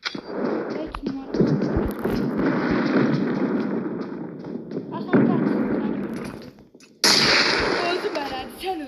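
Gunfire and explosive thumps from a video game rattle on almost continuously at fairly close range, with a loud blast near the end, under a steady stream of talk.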